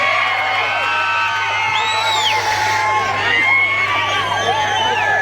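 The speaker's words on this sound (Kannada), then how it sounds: "ಒಂದ್ಸಲಿ ಜೋರಾದ ಚಪ್ಪಾಳೆ." A live audience at a comedy stage show erupts, with many voices cheering, whooping and whistling together in a loud, sustained wall of crowd noise.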